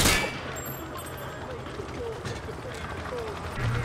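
Hip-fired gunfire in the Modern Warfare 2 campaign shooting range, a dense, steady spray of shots under game ambience, with a sharp burst at the start and no clearly separated individual reports.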